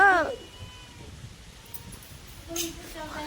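A cat meows briefly at the start and again a couple of seconds later, short cries with a voice nearby in a quiet room.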